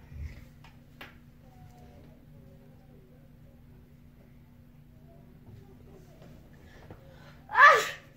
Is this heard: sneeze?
yes